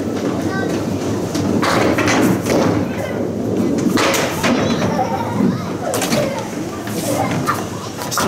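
Bowling ball rolling down a lane at Academy Lanes bowling alley in Haverhill, Massachusetts, with a busy ongoing rumble and scattered clattering impacts from the pins, under a din of surrounding voices and alley noise.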